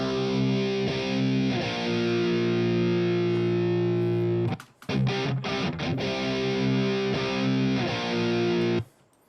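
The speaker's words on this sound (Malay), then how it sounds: "Itu bunyi gitar normal lah." Heavily distorted electric guitar chugging sustained power chords, loud and dense, with a brief choppy break in the middle before the riff resumes and cuts off.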